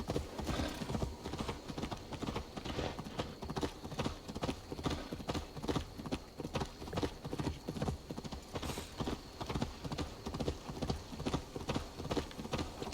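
Horse hooves clip-clop steadily along a road in a Viking-era video game, a continuous even rhythm of close, fairly loud hoofbeats with an occasional faint whinny and no talk over it.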